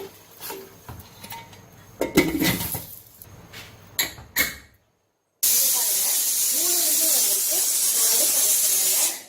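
A pressure cooker steams on the stove while dal cooks. There is clinking and handling first, then a brief silence, and after that a loud, continuous hissing rush of escaping steam fills the rest.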